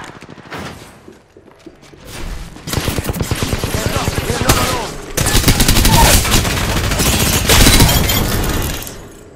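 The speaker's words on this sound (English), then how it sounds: "They spotted me. I'm taking shots." Rapid automatic gunfire from a firefight in the Apex Legends battle royale shooter, loud and close, with sustained bursts of rattling shots and sharp impact cracks building through the second half, faint game voices underneath.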